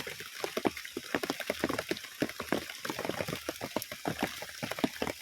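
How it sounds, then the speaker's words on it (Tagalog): Dense, steady patter of rain splashing and bubbling on water or a hard surface, continuous and fairly close, with no talking. "Lakas ng ulan"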